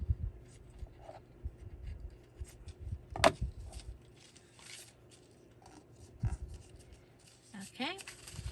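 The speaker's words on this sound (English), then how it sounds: "then we'll cut it" Scissors snip through a strip of lace being added to a handmade paper page, a few brief dry cuts and rustles close by, with quiet handling noises between them.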